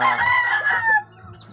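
A young rooster gives a short, strained crow among penned-up chickens, loud and close, trailing off into faint background clucking.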